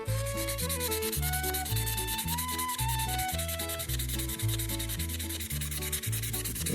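Vintage Ka-Bar trapper knife being hand-sanded with fine-grit paper, producing steady, rhythmic rubbing strokes that repeat evenly and sound close and moderately quiet, with no talking.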